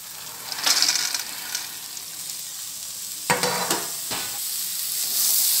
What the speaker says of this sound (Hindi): अब ये चने भी भुन गए हैं